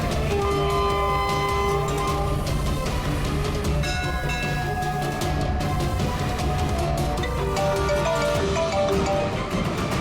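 A train at a railway station, with a loud, steady rumble of rolling stock, sustained horn-like tones and clattering wheels running continuously through the scene, with no speech heard.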